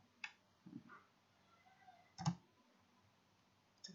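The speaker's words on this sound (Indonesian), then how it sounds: "Atau ditekan tombol delete pada keyboard." Keys on a computer keyboard, including the delete key, are pressed in a few isolated, quiet clicks spaced out over a few seconds in a quiet room.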